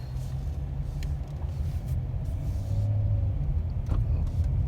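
A 2018 Dodge Challenger SXT V6 with an automatic transmission drives on a road, giving a steady low engine and road rumble from inside the car, with a few faint clicks and no talking.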